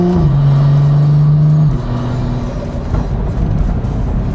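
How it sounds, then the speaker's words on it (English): A BMW F30 with a flashed automatic transmission accelerates hard, engine droning loudly, then drops pitch abruptly as it shifts up and keeps pulling under road and wind noise. "that's the car shifting, that's not even me."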